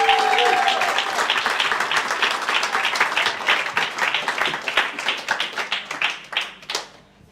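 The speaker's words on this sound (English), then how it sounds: "Can we have a round of applause for Agnes?" A live audience breaks into sustained applause for a Holocaust survivor at an evening event, dense clapping that holds steady for several seconds and then thins out into scattered claps before fading.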